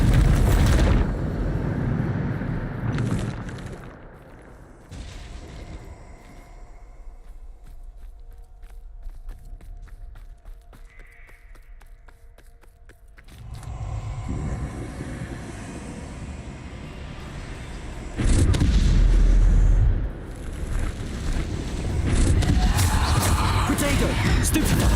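Bombarda spells in the video game Hogwarts Legacy go off as heavy, booming explosions, with loud bursts near the start and again around the middle and end, under a player shouting spell names.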